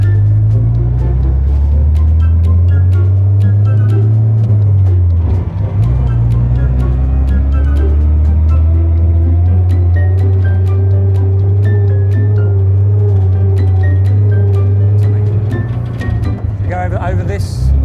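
A Dingo military armoured vehicle climbing over a mound, its engine a loud steady close rumble that strains and shifts pitch as it pulls up; people talk over it.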